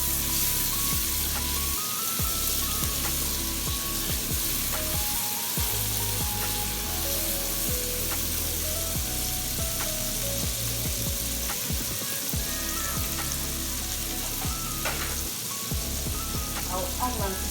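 Coconut fried rice with pepper sizzles continuously in a pan while being stirred, with repeated scraping strokes and soft clinks over the steady frying hiss.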